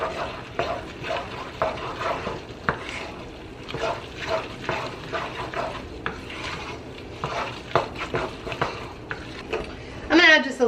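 Noodles stirred with sauce in a pot at home, a steady wet scraping and clinking of utensil against cookware with a faint sizzle underneath, sharper knocks near the end, no talk heard.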